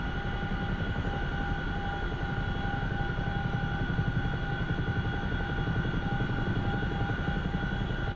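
Chinook twin-rotor helicopter in the DCS World flight game, a steady close engine whine over a dense, even rotor rumble that continues without pause and without talk.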